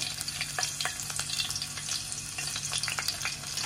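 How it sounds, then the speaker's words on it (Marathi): Green chilies drop into hot oil in a pot for an Aagri-style small crab curry, giving a dense, continuous crackling sizzle with scattered sharp pops, close and without speech. "आता तेल आपलं तापलंय, याच्यात आपण मिरच्या घालूया."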